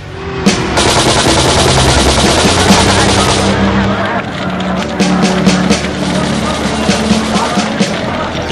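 Archival gunfire from the 1976 Land Day clashes in Israel: loud, dense bursts of shots rattle on and on. Faint crowd noise sits underneath.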